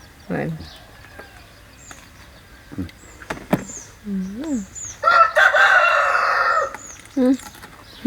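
A rooster crows nearby, with a short call followed by a longer, louder crow, among scattered clucks and rustling noises.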